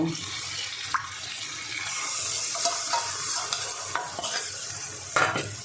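A spice masala sizzles in a pan for paneer tadka while a spatula stirs it briskly, with scraping strokes and bursts of crackle over a continuous frying hiss.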